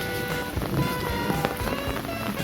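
Steady rain from a thunderstorm falls close by as a dense, continuous patter with small irregular drops and no voices; no thunder stands out.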